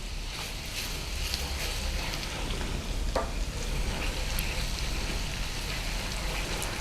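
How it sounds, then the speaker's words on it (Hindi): Chicken frying in a pan with ginger paste gives off a constant dense sizzle, close and steady throughout, with occasional faint clinks and no talking. "इसे थोड़ा भूनेंगे। इसके साथ ही हम डाल देंगे अदरक का पेस्ट।"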